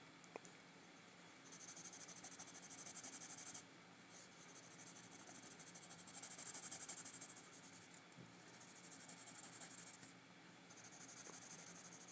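Pencil scratching across paper while coloring in a black and white sketch of a comic book villain, with steady bursts of quick, close strokes and brief pauses between them.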